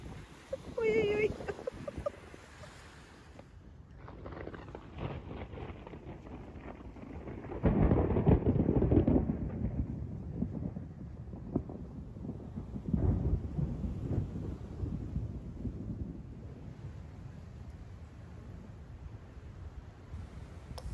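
A thunderstorm rolls over a seaside camp: long, heavy rumbles of thunder swell and fade amid steady rain noise, loud and close, with brief talk early on.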